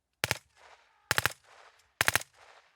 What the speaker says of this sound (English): Outgunned and under fire from dummy bullets.